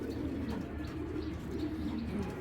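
A large pair of Sapchila pigeons coos steadily at close range, low rounded calls repeating over a constant background hum with no talking.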